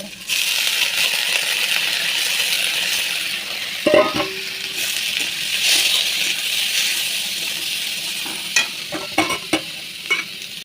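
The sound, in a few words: washed red lentils added to fried onion and garlic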